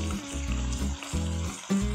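Meat sizzles as it is sautéed with spice paste in a pan, a loud, close, steady frying hiss broken by a few stirring scrapes, with no voices.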